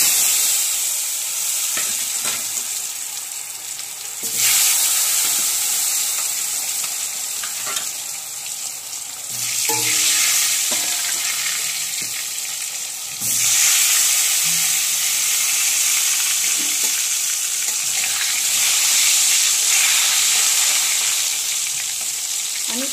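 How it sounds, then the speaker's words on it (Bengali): Potatoes frying in hot mustard oil, a loud continuous sizzle that surges in waves as pieces are turned and stirred, with occasional utensil clinks and no speech. "তেল আমার গরম হয়ে গেছে। এবার আমি আলুগুলো ভেজে নেব।"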